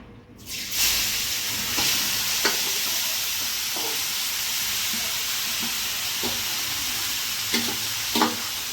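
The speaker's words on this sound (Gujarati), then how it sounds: "ને આના ઘીમાં આપણે ગાજરને નાખી દઈશું." Grated carrots sizzle steadily in hot ghee for carrot halwa, a dense continuous frying hiss that starts abruptly after a brief quiet moment, with several soft stirring scrapes and clicks scattered through it and no talking.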